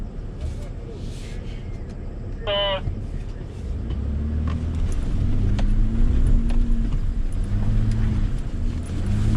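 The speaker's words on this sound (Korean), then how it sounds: "자, 차 후진해주세요." A Chevrolet Colorado Z71 engine hums steadily at low pitch while reversing off-road, growing louder as the vehicle moves slowly, with a brief whistle-like chirp early on.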